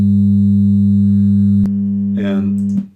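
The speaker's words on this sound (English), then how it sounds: "The first tone will be 100 hertz and the second will be 200." Two combined digital tones at 100 and 200 hertz form a loud, steady electronic hum that holds for about a second and a half. A brief click follows, then a short spoken phrase over the lingering tone before it cuts off.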